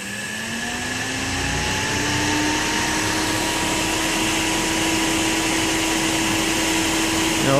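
An AC electric motor, run by a controller during an encoder cable disconnect test, spins in reverse under regenerative braking, giving a steady whine with rising tonal lines over a constant broadband hum.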